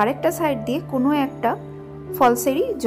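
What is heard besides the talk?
No everyday noises stand out.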